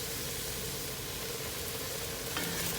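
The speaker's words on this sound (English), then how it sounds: "I'm adding a chicken broth directly to the pan." Chicken broth going into a gumbo roux in a pan while it is stirred, giving a steady, close sizzling hiss with soft liquid and scraping texture throughout, no talking.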